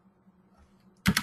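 A short, quick burst of computer keyboard typing after a near-silent pause, close and crisp, with no voices.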